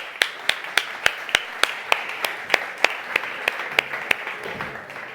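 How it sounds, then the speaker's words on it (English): Clapping from a conference audience welcoming panelists onto a stage, with sharp, fairly regular claps repeating about every third of a second over a dense bed of applause, moderately loud and with no talk over it. "please give them a very warm applause"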